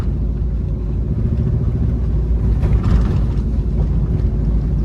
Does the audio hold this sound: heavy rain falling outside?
no